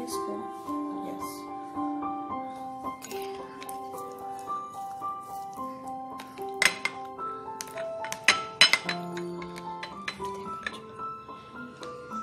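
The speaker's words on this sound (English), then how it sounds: "Mix with the spoon, this spoon." A spoon stirs pasta sauce in a dish, producing a steady run of light, ringing clinks and taps against the dish, close and fairly quiet, with a few sharper knocks.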